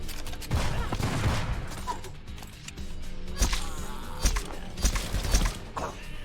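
Rapid bursts of gunfire from the game Bloodhound crackle repeatedly, loud and close, mixed with clanking mechanical effects.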